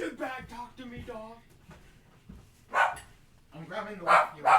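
A dog barks in several short bursts close by, mixed with a person talking nearby.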